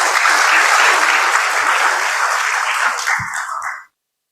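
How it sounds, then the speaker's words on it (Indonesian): An audience at a PLN event applauds Pak Iqbal with dense, loud clapping that holds steady for several seconds, then thins out and stops abruptly. "Aplaus untuk Pak Iqbal."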